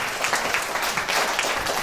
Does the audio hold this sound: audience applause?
yes